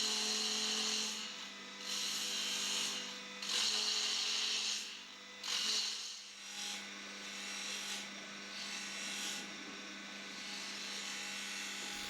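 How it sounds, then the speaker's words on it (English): A spindle gouge makes diagonal push cuts on a wooden vase blank spinning on a lathe. Rhythmic hissing scrapes come in repeated passes of about two seconds each, over a steady motor hum, and no one speaks. "reduce the size slightly with a few push cuts diagonally across the edge of the cylinder using the spindle"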